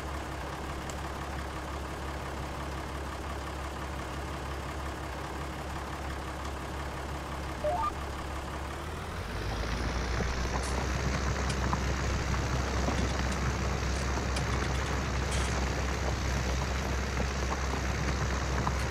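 A Deutz-Fahr Agrostar tractor engine in Farming Simulator 19 drones at a low, steady pitch, then at the midpoint its load rises sharply into a louder, fuller, strained roar that holds to the end, with no talk.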